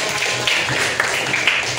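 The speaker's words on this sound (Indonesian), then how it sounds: "Kasih tepuk tangan." Students applaud in a classroom, a steady wash of clapping hands at moderate volume with a few sharper claps standing out.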